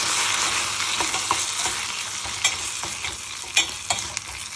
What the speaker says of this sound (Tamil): ஸோ இதை வந்து அதில் மிக்ஸ் பண்ண போகிறேன்